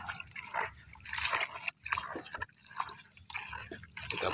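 Cut plant material is wrung by hand in a container of water for a goat remedy, giving soft, wet squelches and drips in repeated irregular squeezes, quiet and close with no voices.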